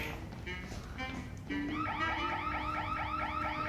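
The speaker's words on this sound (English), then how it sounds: "they unfortunately set off the alarm." An alarm starts up partway through, a repeating warbling electronic tone, clear and fairly loud, after a stretch of muffled background sound.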